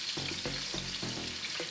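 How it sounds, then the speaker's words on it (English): Seasoned salmon sizzles in hot oil in a pan, a steady close crackling hiss with a few soft bumps of the fish or spatula, no talking. "Oh yeah, I love the sound of that sizzling oil."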